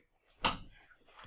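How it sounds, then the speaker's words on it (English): A door closing in the Minecraft video game, one short, quiet thud followed by a faint second knock. "I close my door, beeping stops."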